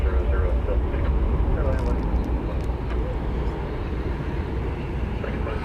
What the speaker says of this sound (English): I think I see a large aircraft on the move.